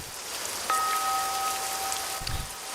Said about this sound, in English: The rain has made the asphalt slick and slippery.